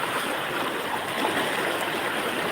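Water flows strongly and steadily nearby, a dense, even rush with no pauses.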